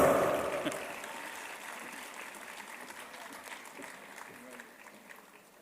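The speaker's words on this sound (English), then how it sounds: "You can applaud." Audience applause at a college convocation award announcement swells briefly at the start, then fades to a thinner, scattered patter of clapping that tapers off over several seconds.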